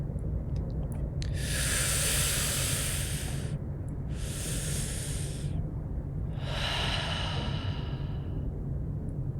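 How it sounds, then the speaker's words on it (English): Slow, deep breathing up close, with three long airy exhales or inhales spaced a couple of seconds apart over a steady low background hum, and no voice. "Noticing those physical sensations and continuing to breathe, letting tension be released through your exhale."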